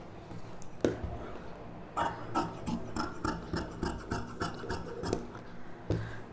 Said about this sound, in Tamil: இந்த ஷேப் அப்படியே நீட்டாக கட் பண்ணிவிட்டு